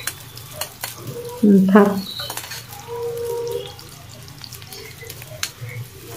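Chopped onions dropped into hot oil in a home kitchen, giving a sudden loud sizzle burst that settles into a steady frying hiss with a few clinks of a stirring spoon, and a brief word spoken.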